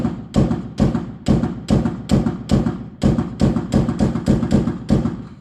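Gunshots ring out during a shooting standoff: roughly a dozen sharp, loud bangs in a fairly regular rapid sequence, each a hard crack followed by a brief decay.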